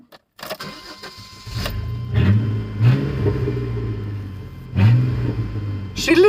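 A truck engine with a misfire problem cranks briefly, then catches and runs with a low, uneven rumble, surging in two distinct revs before settling. The sound is close and loud.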